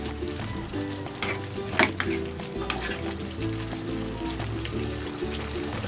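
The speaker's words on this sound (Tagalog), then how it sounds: "Pahaluin ko ito para maluto naman yung nasa ibabaw." Green papaya simmering in coconut milk in a pan, stirred now and then, gives a soft steady sizzle and bubbling with faint scraping under it, close and fairly quiet throughout.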